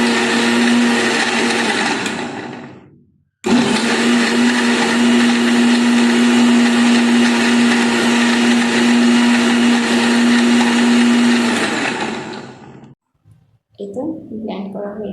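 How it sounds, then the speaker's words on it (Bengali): An electric blender whirs loudly and steadily while blending a banana and milk drink, briefly cutting out, then running again for a long stretch before stopping, followed by a short restart. "এটাকে এখন ব্লেন্ড করে নেব।"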